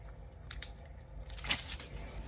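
Keys jingle and clink as they are clipped into a travel bag, a quiet metallic rattle that builds to a brief, sharper jangle near the middle of the short, otherwise hushed moment.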